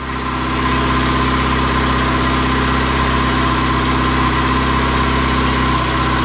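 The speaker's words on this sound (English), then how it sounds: "this motor sounds happy right now" A Ford EcoBoost engine in a DeLorean idles at a steady, even rumble, constant and close, with no voices.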